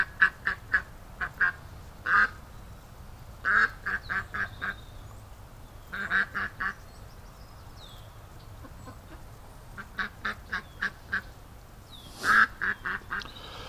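A duck gives repeated quacks in short clustered bursts, loud and close, with quiet gaps between the groups and no talking.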